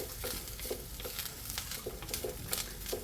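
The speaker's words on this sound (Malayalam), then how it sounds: "ഇതിലേക്ക് പഴം വേവിച്ചത് ഇടാം" Cooked ripe plantain added to sizzling coconut in a pan, with steady frying crackle and repeated spatula scrapes and taps at a quick, uneven rhythm, close and fairly loud.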